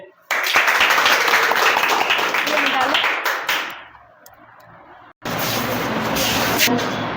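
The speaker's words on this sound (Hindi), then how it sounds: "इनके लिए तालियां हो जाए।" Classroom applause for a student: two bursts of dense clapping from a group, the first lasting about three seconds and fading out, the second starting sharply after a short lull.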